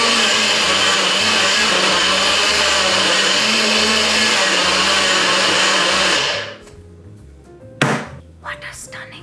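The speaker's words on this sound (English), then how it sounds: "then I'm gonna pop it in my blender real quick" A countertop blender blends a smoothie in its cup, a loud steady whirring roar that runs for about six seconds before cutting off, followed by a few light knocks and clatters.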